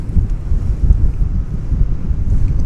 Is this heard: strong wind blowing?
yes